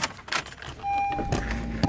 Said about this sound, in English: I gotta probably find my keys.